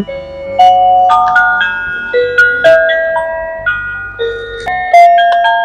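A musical gift lamp plays a bright electronic melody in plucked, chiming notes, a simple music-box style tune, loud and alone.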